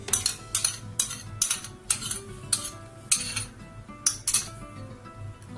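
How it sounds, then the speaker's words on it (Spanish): A spoon scrapes and clinks against a container as spoonfuls of yogurt go into a blender while making ayran, several sharp metallic taps in an uneven rhythm, close and fairly quiet. "Vamos a meter 3 cucharadas de yoğurt en la batidora."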